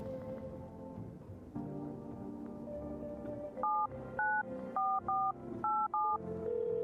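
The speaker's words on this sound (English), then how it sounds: "Just gonna call this phone number every day." Touch-tone dialing from a phone in the video game No, I'm not a Human: a run of seven loud, evenly paced DTMF beeps over a steady game music background.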